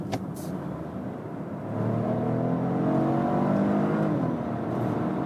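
2020 Volvo XC40 T5 Twin Engine plug-in hybrid with a 1.5-liter three-cylinder accelerating hard from 50 to 100 km/h in power mode, engine note swelling and climbing steadily in pitch from inside the cabin.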